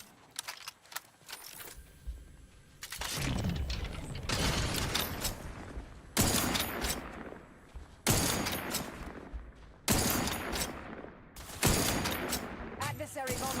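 Gunfire in The Outer Worlds 2 comes in repeated bursts of sharp shots with clattering mechanical sounds between them, close and loud, separated by short quieter gaps.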